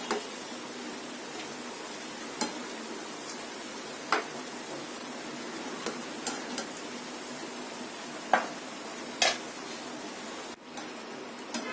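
A crispy afternoon snack deep-fries in hot oil while it is stirred now and then, a faint steady bubbling hiss broken by occasional sharp scrape clicks, with no voices.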